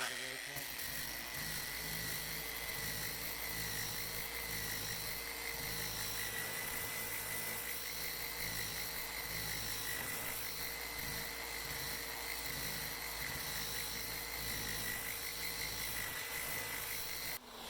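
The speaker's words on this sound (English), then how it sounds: "So I'll try it right now on the ratcheting." A Festool Rotex sander runs in ratcheting mode with a steady, continuous high whirring drone throughout, while a person talks over it.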